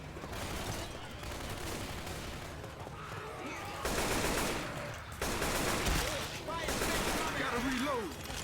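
Dense gunfire rattles through a Left 4 Dead 2 custom-map shootout, a sustained volley of rapid shots with heavier bursts later, close and loud, with players talking over the fighting.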